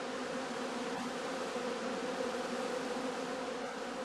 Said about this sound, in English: On sunny and warm October days, bees can still be seen flying before they cluster together for the cold winter months